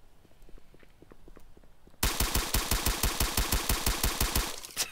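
A-10 Warthog cannon fire in the video game Base Battles: after two seconds of quiet, a loud, rapid, evenly spaced burst of heavy gunshots rattles on continuously until the end.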